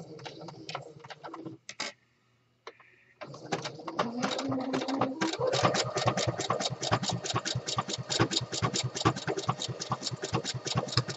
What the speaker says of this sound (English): I like to send it through the machine twice.